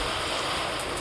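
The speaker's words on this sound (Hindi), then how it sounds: "अभी को बारिश हो रही है" Heavy monsoon downpour falling steadily outdoors during a storm, a dense, continuous roar of rain and wind with no pauses, fairly loud and close, with no talking.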